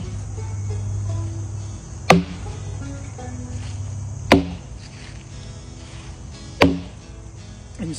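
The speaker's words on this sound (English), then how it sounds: "soon you will hear the most beautiful sound of wood splitting" A steel wedge is struck with a wooden beetle to split a chestnut oak log outdoors: three sharp, loud, evenly spaced impacts, each ringing briefly, over a steady droning hum of background insects or crickets.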